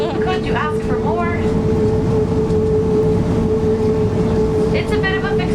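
A steady rumbling roll of a train on rails heard from aboard, with a constant low hum and rhythmic rattle throughout, while people talk over it.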